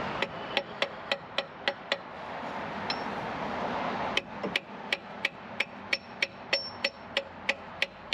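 Hammer tapping a harmonic balancer into place on a 2005 Ford Sport Trac, sharp metallic strikes in quick regular runs, a short pause mid-way, then another steady series of blows over a low background hum.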